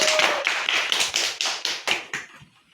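A classroom of fifth-grade pupils claps hands in a quick run of about a dozen sharp, fairly loud claps with an uneven rhythm that fades toward the end, with no talking over it.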